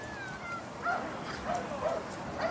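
A dog gives short yips and whimpering barks during a police arrest inside a house, several brief close calls at moderate loudness.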